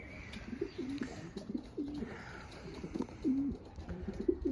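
Racing pigeons around a loft coo softly in repeated low, rolling calls, several birds overlapping at a moderate distance against quiet outdoor background noise.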